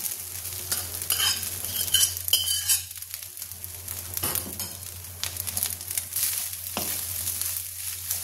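Vegetables tumble into fried rice sizzling in a pan, a steady frying hiss under repeated stirring scrapes and a few light utensil clinks, close and continuous.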